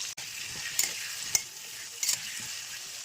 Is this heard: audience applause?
no